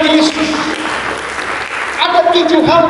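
A church congregation in Indonesia claps in dense, sustained applause during a sermon, loud and close, with voices and cheering mixed in.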